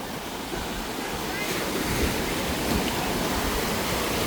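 Ocean waves at high tide on Boracay beach wash and roar continuously, a loud, broad surf rush with wind buffeting the microphone.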